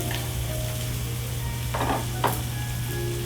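Zucchini, yellow squash and carrots sizzle in a pan with onions, a continuous close frying hiss broken by a couple of brief stirring scrapes.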